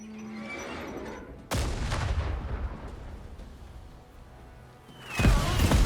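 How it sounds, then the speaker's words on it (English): Artillery strike and gunfire in the video game Last Train Home: a sudden heavy blast followed by rumbling gunfire and crackling bursts, then a second loud detonation near the end. "can we call an artillery strike right about here?"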